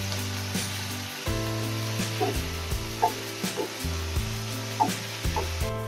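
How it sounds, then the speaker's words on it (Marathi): Chopped onions frying with a pinch of salt in a pan for a hotel-style paneer masala gravy give a steady close sizzle, with soft stirring clicks, over tonal background music. "थोडंसं मीठ टाकून मी हा कांदा भाजून घेते"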